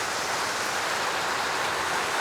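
Steady rain pours on a rainy-season mini farm, a dense, even hiss that holds at one level with no break or other sound.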